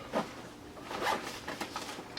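The top compartment zipper of a hiking backpack is opened with a short, faint rasp, followed by light fabric rustling and handling noises close by.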